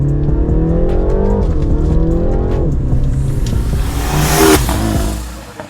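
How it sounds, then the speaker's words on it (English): A stage 2 tuned BMW 330i (G20) with a turbocharged 2-liter four-cylinder, about 300 hp, revs hard under acceleration. The loud engine note climbs through the gears with brief dips at the shifts and ends in a sharp rising whine, with no one talking. "It has a pretty peppy 2-liter turbocharged 4-cylinder engine, and now in this stage 2 setup, it sounds really crazy"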